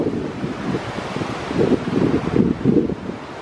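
Strong gusty wind buffets the microphone outdoors on a wild, wet morning at Coaley Peak near Nympsfield and Uley, a steady low roar that swells louder in the second half with no one speaking.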